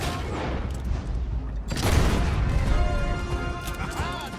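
Gunfire blasts away a road block in Red Dead Redemption, a loud crashing burst of shots with a heavy impact midway, followed by continued rattling and clattering, close and dense, with voices shouting over it.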